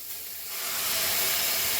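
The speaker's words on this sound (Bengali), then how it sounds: "দেখো, গাজরটা আমার ভাজা ভাজা হয়ে গেছে, মানে গাজরের যে একটা কাঁচা গন্ধ থাকে সেই গন্ধটা চলে গেছে। এবারে আমি দুধ দিয়ে দিচ্ছি।" Milk poured into a pan of hot fried carrots sets off a loud sizzling hiss that swells within the first second and stays steady and close.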